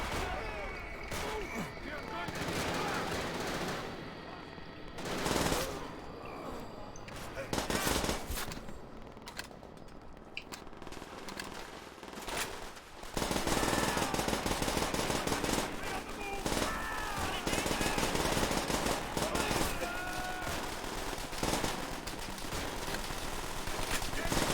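Machine gun fire rattles in long, dense bursts throughout a Call of Duty: World at War battle, loud and close with scattered shots mixed in, while a player talks over the constant shooting.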